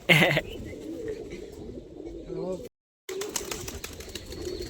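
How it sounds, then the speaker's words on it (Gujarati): Pigeons cooing at a friend's home loft, a low murmuring coo under ongoing nearby chatter, with a loud rustle or flutter at the start and a brief break in the sound midway. "હવે કબૂતર પૂરવા હે"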